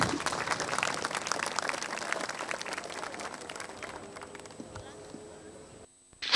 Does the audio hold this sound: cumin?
no